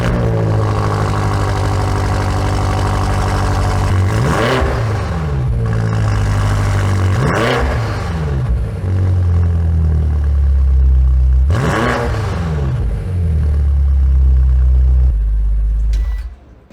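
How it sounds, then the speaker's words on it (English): A deep, throaty 2023 BMW M8 Competition exhaust with large pipes idling and revving hard three times, each rev swelling and falling back, loud and close. "it has a really nice exhaust sound because of those huge pipes"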